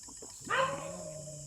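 A single short dog whine or yelp sounds nearby, rising then trailing off against a steady background hiss.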